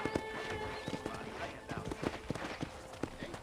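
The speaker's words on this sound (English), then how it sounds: "let's see if you can still ride a horse" Horse hooves clip-clop at a steady walking pace on a ranch in the Red Dead Redemption video game, sharp repeated knocks close by, mixed with game ambience and a brief whinny.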